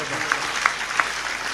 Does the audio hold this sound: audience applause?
yes